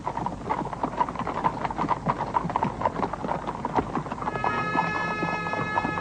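The hooves of a grey horse, ridden slowly, clip-clop in a steady rhythm close by. A faint tonal sound joins toward the end.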